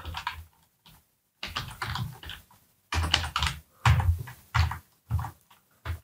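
Bursts of fast typing on a computer keyboard, close and fairly loud clattering in several separate runs with short pauses between them, no talking.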